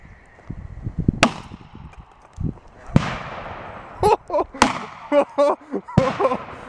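Test rockets and a detpack charge firing, heard as a series of sharp bangs and pops at irregular intervals, some in quick clustered bursts, with a hissing whoosh in between and voices talking faintly in the background.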